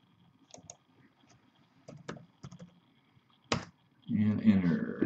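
Computer keyboard typing: scattered key clicks and taps across a few seconds, fairly quiet and sparse, before a louder burst of voice near the end as someone begins talking.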